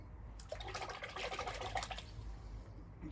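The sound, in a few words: rinsing an object in water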